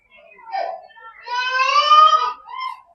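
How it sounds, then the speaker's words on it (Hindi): Recorded baby crying played through a speaker in a heritage village display, a thin, tonal wail rising into a sustained harmonic cry with short whimpers before and after, alone and fairly clear. "ये रोने की आवाज सुन रही नहीं"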